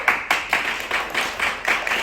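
A small group of children clapping for a classmate during a winter Bible school service for second-graders, about nine distinct, evenly spaced claps in a quick rhythm, close and clear.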